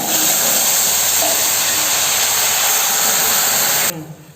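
A steady loud hiss and sizzle runs for about four seconds as boiling water is poured onto roasted vermicelli in a pan, then cuts off abruptly.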